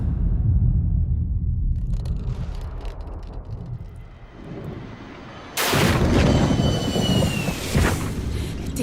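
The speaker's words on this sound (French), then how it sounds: "Les avions traversent des tempêtes tout le temps." Storm rumble outside an airliner in flight in a French action film: a steady low roar that turns into a loud, broad, rushing blast about two-thirds through, with faint whistling tones riding on top.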